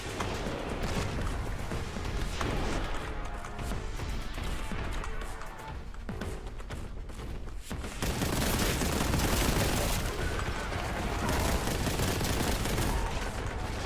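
Sustained, dense gunfire from a video game set in the Museum of Monoliths, with bursts and rattling volleys that run continuously across the clip and swell louder in the second half.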